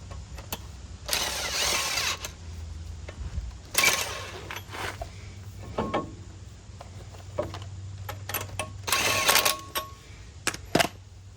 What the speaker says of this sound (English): So I'm going to put one bolt on here to hold it in place.